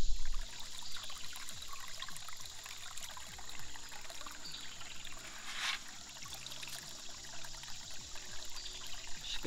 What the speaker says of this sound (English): I can release the dam and run the old adventure sluice